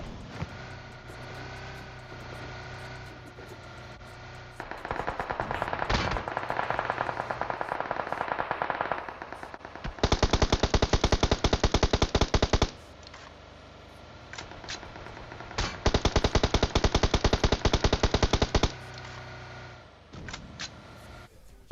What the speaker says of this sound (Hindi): और चलाते हैं ये लोग गोली दबा के।